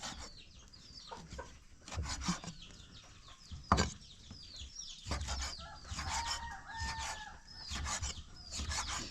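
Farmyard chickens clucking repeatedly at close range, with a rooster crowing in the morning mixed among the calls and a brief rubbing noise, no talk.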